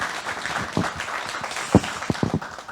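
A small audience at a book talk gives a short, sparse round of applause, with only a handful of scattered individual claps over quiet room noise.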